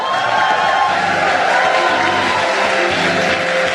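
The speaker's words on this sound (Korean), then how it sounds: "박수로 모시겠습니다" A church variety-show audience applauds and cheers to welcome a congregation reporter on stage, a dense, steady wash of clapping and crowd noise throughout.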